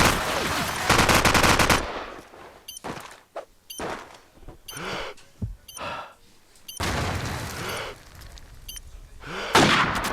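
Rapid automatic gunfire and single shots ring out in a competitive team shooter match, coming in loud bursts separated by short gaps, with sharp cracks and thuds up close.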